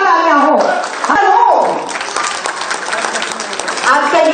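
Hearty applause rings out at a ministry ceremony where appointment letters are handed to dentists and medical officers, with an amplified voice talking over the clapping at the start and end.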